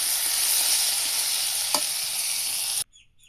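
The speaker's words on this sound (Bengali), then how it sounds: "এভাবে কম জালে ভাজতে হবে, তা না হলে ভাজিটা পুড়ে যাবে।" Cauliflower and shrimp frying in a pan over low heat give a steady, close sizzle with a brief stirring scrape midway, then the sound cuts off abruptly near the end.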